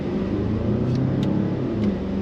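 Steady low engine drone from a 2023 Mazda CX-9 Carbon Edition four-cylinder, heard inside the cabin while driving, a continuous buzzy rumble at moderate level with no talking.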